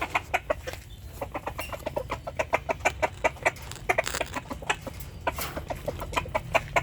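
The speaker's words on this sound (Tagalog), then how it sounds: "gentle gentle rooster yan" A rooster clucks over and over in quick, fairly regular calls, close and clear against a steady low background hum.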